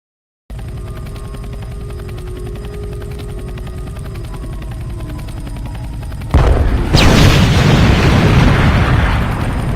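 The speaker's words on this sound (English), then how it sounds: "Estimating meltdown core detonation. Warning, meltdown detonation will occur in T." Roblox thermal power plant reactor core detonates in a meltdown: a steady mechanical hum with alarm tones runs for several seconds, then a sudden loud, sustained explosive roar takes over to the end.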